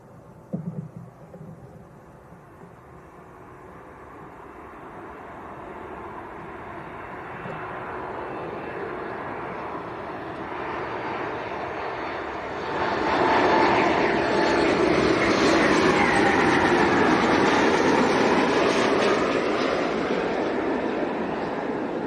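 A Ryanair airliner on approach to Leeds Bradford Airport roars in from the distance, its engine rumble building slowly and then growing suddenly louder and fuller as it passes overhead.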